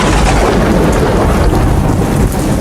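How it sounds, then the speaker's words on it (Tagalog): Heavy rain pours down with deep rolling thunder, a loud, dense, continuous roar that fills the whole moment. "My God, it's raining."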